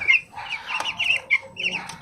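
Chickens cluck close by, several short bursts of clucking and chirpy calls in quick succession.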